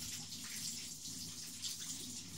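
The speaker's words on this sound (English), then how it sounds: "Let me just wash my hands a bit." Tap water streams steadily from a kitchen faucet while hands are washed, a soft continuous hiss and splash, faint and even throughout with no talking.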